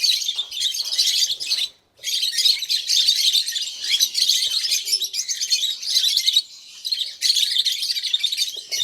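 Lovebirds chirping and calling busily in an outdoor aviary just after release, a dense, continuous chorus of shrill tweets with a brief pause near the start.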